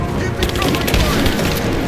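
Rapid bursts of video game gunfire in Rise of the Tomb Raider, loud and close, a quick volley of shots filling the brief moment with shouting voices underneath.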